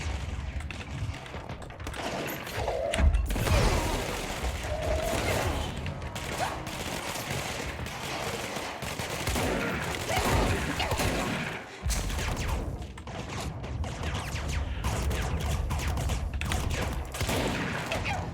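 Shotgun blasts and combat noise from the action game Control, a dense, continuous barrage of firing and impacts that stays loud throughout, with a heavier blast early on.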